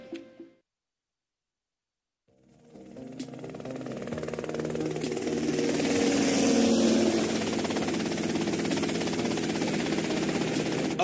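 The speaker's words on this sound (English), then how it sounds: "Okay, that's them in the chopper." A helicopter in GTA Vice City starts up after a brief silence, its engine and rotor noise swelling into a loud, steady whir that holds to the end.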